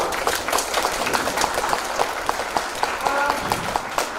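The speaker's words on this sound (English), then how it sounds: "So big round of applause for sir." A seminar audience gives a round of applause for a speaker at an international academic event, steady dense clapping from a room full of people filling the whole stretch without a break.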